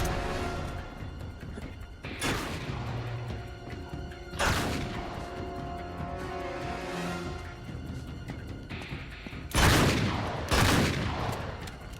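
Gunfire in the video game Uncharted 3 during a fight with a shotgun-wielding enemy, with several loud, sharp blasts spaced a few seconds apart over a constant background of combat noise.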